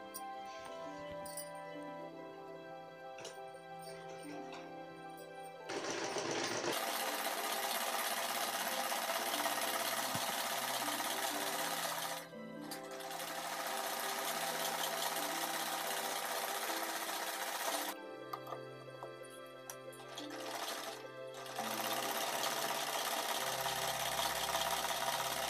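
A sewing machine joins the flared kali panels of a ladies' suit, loud close whirring in long sustained runs broken by short pauses and shifts in motor speed.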